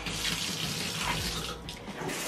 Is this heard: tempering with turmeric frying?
no